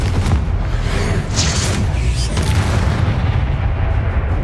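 The Confringo fire spell detonates in Hogwarts Mystery, a loud booming burst like artillery fire that sits over a dense, continuous game soundscape with no speech.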